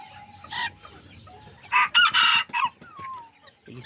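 Small Azteca roosters and hens in a backyard flock give a few short, close clucks, followed by a louder burst of crowing and clucking with brief pauses, then a fading squawk.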